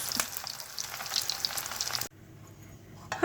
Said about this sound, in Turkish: şekillerini vermiş olduğumuz köftelerimizi tavamıza alıyoruz ve köftelerimizi kızartıyoruz